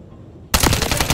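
A gunshot burst in the video game Call of Duty: Modern Warfare 3 erupts abruptly after a quiet moment, loud and close with a rapid rattling tail.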